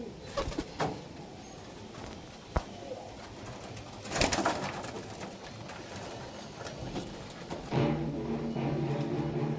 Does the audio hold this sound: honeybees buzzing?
no